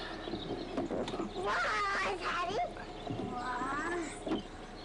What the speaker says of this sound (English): Where it's discovered they have cats.